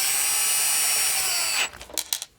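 Power driver spinning bolts into a Losi 5T large-scale RC car, a loud, high whirring run for about a second and a half that stops abruptly, followed by a few short bursts.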